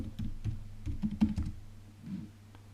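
Fingers type C code for an odd-or-even number check on a computer keyboard, a close, quick patter of soft key clicks in short irregular bursts with a brief pause.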